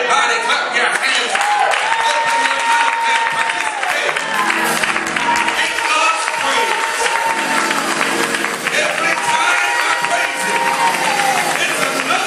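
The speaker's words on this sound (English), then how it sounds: "Everybody clap your hands." A church congregation claps hands together throughout, a dense steady wash of clapping mixed with crowd voices and singing, loud and continuous.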